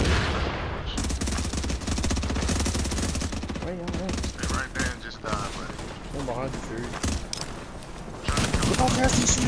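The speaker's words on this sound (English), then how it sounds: "Shotgun" Rapid gunfire in the video game The Division, loud dense volleys of shots running almost throughout, with a brief lull and people talking over it mid-way before the firing surges again.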